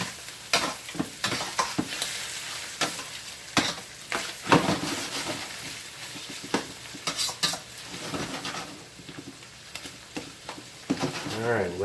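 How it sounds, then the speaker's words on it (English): Garlic and chicken sautéing for chicken marsala, sizzling steadily in a hot pan while a utensil scrapes and tosses the pieces in irregular strokes, close and fairly loud. "let them saute for just a second"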